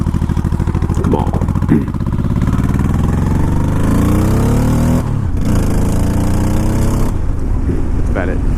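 A beginner motorcycle's engine climbs in pitch as it accelerates, loud and close, dropping back briefly and revving up again, with a rider's voice heard now and then over the steady engine roar.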